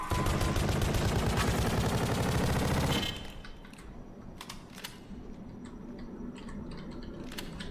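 Rapid gunfire from the video game Pony Island, a dense loud burst of repeated shots for about three seconds, then dropping to quieter game ambience with a few faint clicks.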